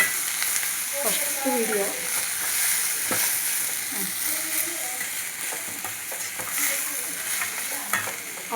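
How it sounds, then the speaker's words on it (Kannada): Food slowly frying in a pan for sambar, with a steady sizzle and intermittent scraping stirs throughout, and a voice speaking briefly over it. "10 ನಿಮಿಷ ಸ್ಲೋ ಆಗಿ ಫ್ರೈ, 10 ನಿಮಿಷ ಸ್ಲೋ"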